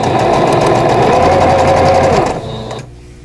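A sewing machine runs steadily while stitching quilt block pieces, a close, loud, even mechanical whir that slows and stops near the end, with no talking.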